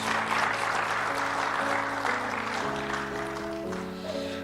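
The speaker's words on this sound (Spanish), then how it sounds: "quiero que demos un fuerte aplauso al Señor por la vida de todos" A church congregation gives a strong round of applause to the Lord, with sustained clapping throughout over a held organ or keyboard chord that shifts pitch underneath.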